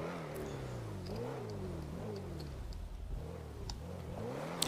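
A Range Rover climbs uphill off-road, its engine revving in a quiet, wavering drone that rises and falls as the throttle shifts, heard alone at low volume.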